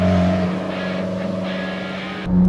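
Lime green Alfa Romeo 4C coupe with a dual-clutch transmission, heard as a steady, close engine drone with a low hum throughout and a brief rise in level at the end.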